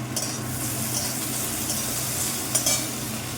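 Chopped tomato hitting golden fried onions in a hot pan, sizzling steadily while being stirred, with a couple of spatula scrapes near the end; no talking.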